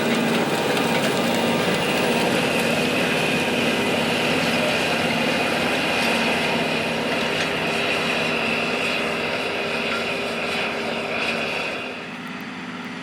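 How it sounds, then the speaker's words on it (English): A John Deere 9620R four-wheel-drive tractor with a Cummins engine rolling past in a field: a loud, steady diesel drone with a whine on top that holds for most of the pass, then drops as it moves away. "You might notice as the tractor rolls by here in the video"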